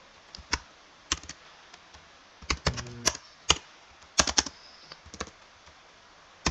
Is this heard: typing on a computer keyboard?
yes